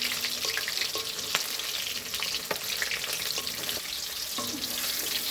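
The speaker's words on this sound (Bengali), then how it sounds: "লাল লাল করে ভাজবো।" Pakoras frying in hot oil, a dense continuous sizzle and crackle heard up close, with occasional light clinks from a utensil and no talking.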